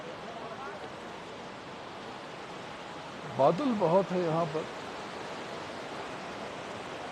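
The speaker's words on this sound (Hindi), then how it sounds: "ये पानी बह रहा है, जिसकी आवाज आपको सुनाई पड़ रही है" Water flows steadily outdoors in Andorra as a constant broadband rush, while someone speaks briefly over it midway.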